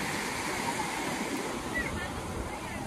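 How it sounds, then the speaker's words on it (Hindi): Sea waves wash onto an empty sandy beach, a steady, broad surf rush mixed with wind buffeting the microphone. "ये लहरें हैं"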